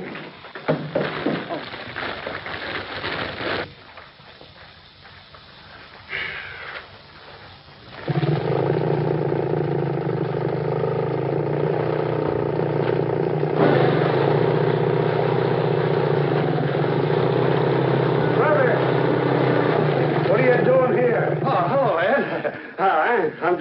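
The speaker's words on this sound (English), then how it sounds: "Trying out my new outboard motor." A new outboard motor, a homemade invention, runs with a steady, loud droning roar that starts abruptly partway through and holds for about fifteen seconds after a quieter stretch with other noises.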